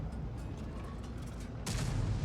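A tank gun fires a round in the World of Tanks video game, a single sharp boom near the end after quiet, low-level battle ambience, fairly faint overall.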